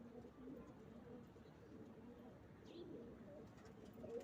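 Flying pigeons during a kabootar bazi (gola) pigeon-flying session, with soft cooing faintly audible over steady outdoor background noise and a brief higher call midway.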